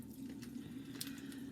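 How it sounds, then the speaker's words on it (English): Water dripping from a wet soap bar into a sink, a few quiet taps and trickles over a low steady hum, close by and faint. "See the water dripping out?"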